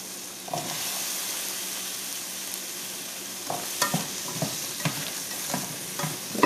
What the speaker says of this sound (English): Now we're going to add our apples.